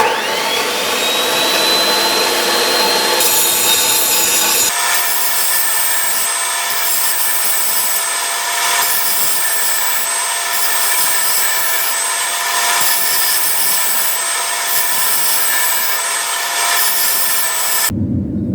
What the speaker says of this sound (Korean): 일단 기계로 이렇게 면은 좀 깔끔하게 다듬어 놨어요